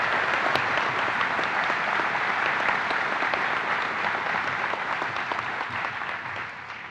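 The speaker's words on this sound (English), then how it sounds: "Let's have a round of applause for all of our service awardees" An audience at a NASA Marshall agency honor awards ceremony claps in sustained, dense applause for service awardees, a loud, even roar of many hands that fades slightly toward the end.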